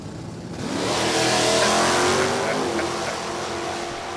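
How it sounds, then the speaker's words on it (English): Pontiac Firebird E-stock automatic drag car launching at a drag strip, a loud engine rising and revving hard as it pulls away over about four seconds, steady and near. "Driving that little E-stock automatic. Pontiac Firebird over on the left-hand side, and Ricky Winchester."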